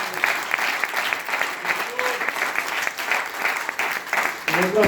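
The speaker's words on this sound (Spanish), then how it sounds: "Dale fuerte este aplauso al Señor." Congregation clapping at an evangelical church service, lively and close, with rhythmic pulses in the applause and scattered voices calling out among it.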